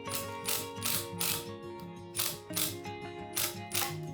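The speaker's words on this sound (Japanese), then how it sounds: "その穴からこの柱の下向けてね、長めのビスで留めてやります" A power driver sends long screws up through pre-drilled holes in a stone base into the bottom of a wooden post during a carpenter's renovation of a Showa-era entryway. It gives repeated whirring, ratcheting bursts with a buzzing tone, steady and close.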